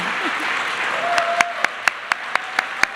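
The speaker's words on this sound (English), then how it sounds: "These applause are for you all as well." Applause from a high school audience greeting the First Lady. Steady clapping sits under a brief voice, with a row of sharp, evenly spaced loud claps standing out near the microphone.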